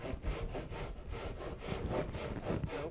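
A hand saw cuts wood for a steel-string guitar build, working in quick, even back-and-forth strokes, about seven rasping passes in three seconds, close and clear with no talking.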